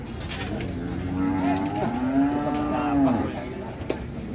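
Simmental cow at a cattle market in Ponorogo, East Java, lets out one long, close, loud moo that rises and then falls over a few seconds, over a murmur of market background noise.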